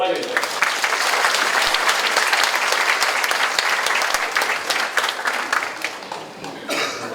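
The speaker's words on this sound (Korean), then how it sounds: "박수로 맞이해주세요." Warm, dense applause from a seated audience at a residents' briefing on a lawsuit, welcoming a lawyer to the stage; loud and steady, then thinning near the end with a cough or two.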